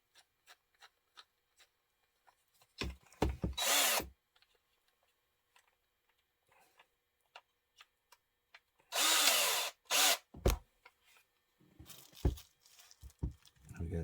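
Short bursts of a micro drill working on a 1976 Tyco Bicentennial model train, a few seconds each with quiet gaps between, close and fairly loud, scattered with small taps and handling clicks.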